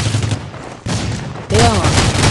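Gunfire in the mobile video game Rules of Survival: two loud bursts of shots, the second heavier, with a faint tonal sound in the background.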